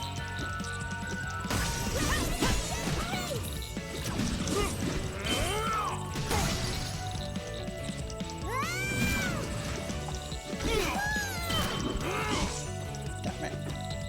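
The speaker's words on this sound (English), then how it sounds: "Just smashing through these buggers." Combat in Fallen Legion: Flames of Rebellion as attacks smash through enemies, a dense run of repeated crashes and thwacks with squealing creature cries over busy game music.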